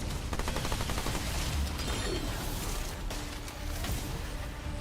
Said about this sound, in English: That cannon is very dangerous.